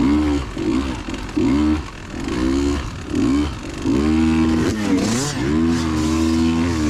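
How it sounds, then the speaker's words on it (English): Yamaha YZ125 two-stroke dirt bikes ride past on a trail, their raspy, buzzing engines rising and falling in pitch as the throttle is worked, close and loud, with several revving surges in a row. "YZ125s, those things got a raspy little rap to them."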